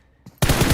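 A red dot sighted gun fires in PUBG Mobile during esports scrims. After a brief quiet moment and a small click, a burst of rapid automatic shots starts abruptly and runs loud and unbroken to the end.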